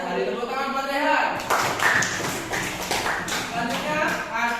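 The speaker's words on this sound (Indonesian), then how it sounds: "Tepuk tangan buat Rehan." A classroom full of students breaks into applause for a classmate named Rehan, a sudden burst of brisk, scattered clapping that starts after a voice and carries on for several seconds.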